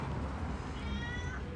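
A two-month-old kitten gives a faint, thin meow over a noisy, low background.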